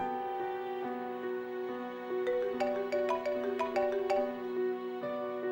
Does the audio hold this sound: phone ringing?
yes